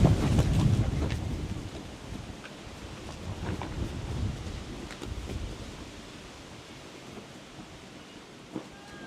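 Strong wind gusts across an open cricket ground during a youth Test match, a broad rushing buffet that is loudest at the start and then eases into a steadier, lower roar with no one talking.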